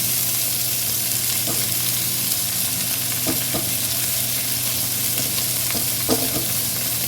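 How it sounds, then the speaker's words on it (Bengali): Tomato fries in a pan with a loud, dense, continuous sizzle close by, broken by a few soft scraping stirs, with no voices. "সামান্য একটু নেড়ে চেড়ে আমি ভেজে নেব, টমেটোটা গলা অবধি ভেজে নেব।"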